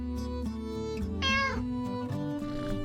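A cat meows a few times over soft background music in a video game, one drawn-out meow rising above the rest.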